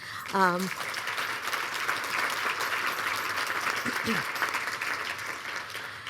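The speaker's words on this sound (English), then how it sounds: "they definitely all deserve a round of applause" Steady, moderately distant applause from an audience at a talk, a continuous soft wash of clapping with a brief voice cutting in near the start and again later.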